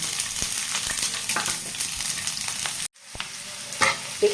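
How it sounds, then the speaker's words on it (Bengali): Onion and green chilli sizzling in hot oil in a pan, a steady close frying crackle with stirring clicks and a brief drop near the end before the sizzle resumes. "প্যানে বসিয়ে দিয়েছি তেল এবার একটুখানি পেঁয়াজটা লঙ্কাটা দিয়ে দিই"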